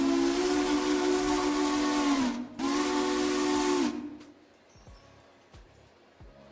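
A steam locomotive whistle in the railroad game Railroader gives two loud, sustained blasts, the second ending abruptly and leaving faint clicks and quiet background.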